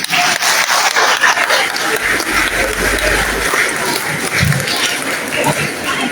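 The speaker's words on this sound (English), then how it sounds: "So maybe let's give the little people a round of applause." Schoolchildren and adults at Kopkop College in Port Moresby give loud, continuous applause, dense and close, with a few voices over the clapping.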